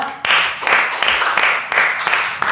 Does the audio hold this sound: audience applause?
yes